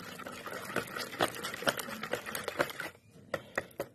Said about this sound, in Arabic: 3 بيضات نضربهم الاول حلو.